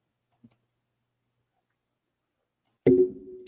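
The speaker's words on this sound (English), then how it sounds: "We'll type it in, Julie." A few sharp keyboard key clicks tap out early, then fall silent before a louder tonal sound takes over near the end.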